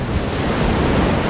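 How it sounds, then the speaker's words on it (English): Ocean surf rolls onto a beach beside a rock platform, a steady broadband wash of waves mixed with wind buffeting the microphone, continuous and fairly loud with no voices. "you can probably hear the sound of the ocean"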